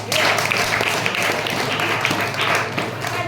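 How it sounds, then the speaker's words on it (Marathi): Secondary school students applauding in a classroom, a dense, steady wash of many hands clapping together that holds without a break throughout. "बरोबर, टाळ्या वाजवा त्यांच्यासाठी"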